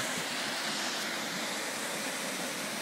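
Waterfall at Hotel La Cascada, a constant dense roar of rushing water that fills the whole stretch at steady loudness, close and unbroken, with no voices.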